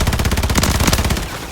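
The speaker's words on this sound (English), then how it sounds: "Taking effective fire!" Rapid automatic gunfire rattles in a fast, even burst in Modern Warfare 3, loud and close, tapering off near the end with no voices.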